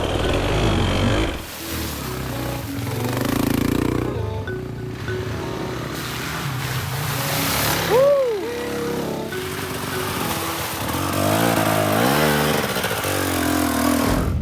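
A Kawasaki KDX200 two-stroke dirt bike is ridden on trails, its engine droning loud and close throughout, revs swelling and dipping with the throttle and a brief rising whine partway through.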